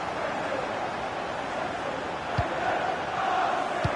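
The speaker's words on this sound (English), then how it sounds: "Well, the ref will hear the crowd all right." Football stadium crowd roars and jeers at the referee in a steady, distant wash of noise with a couple of brief thuds.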